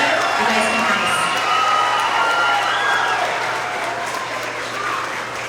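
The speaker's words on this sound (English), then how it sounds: "One last applause for all of these amazing readers." A crowd at a kindergarten to second grade school award assembly applauds loudly with scattered cheers and whoops from children mixed in, tapering off slightly toward the end.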